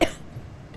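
A single sharp cough from a person with a sore throat during a live Ramadan iftar broadcast, brief and close, followed by a quiet low rumble.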